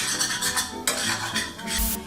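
Utensil scraping parsley bits from a pan bottom while the sauce sizzles, repeated close metallic scrapes and stirring strokes over a steady frying hiss.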